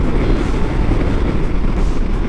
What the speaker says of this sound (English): Got some good crosswind because of this storm coming in.